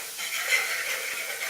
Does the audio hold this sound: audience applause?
no